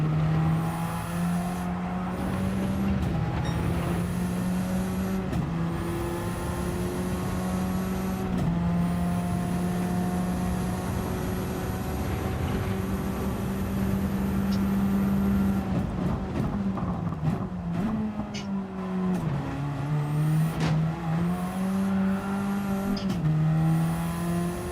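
Racing-game car engines drone on the final lap, one dominant engine note held high and steady with brief dips and shifts as gears change, other engines whining faintly underneath, with no talk.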